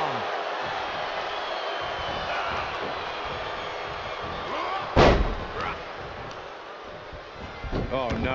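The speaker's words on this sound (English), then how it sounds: "All the way up and big power bomb" A wrestler is driven down onto the mat with a power bomb in a British Strong Style match, landing as one loud, sharp slam that rises out of steady crowd noise and commentary, followed by lingering arena din.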